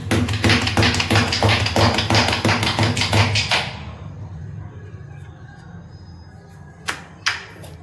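Jowar roti dough gets a quick, rhythmic patting by hand, loud and close, for about three seconds. Quiet follows, then two sharp taps.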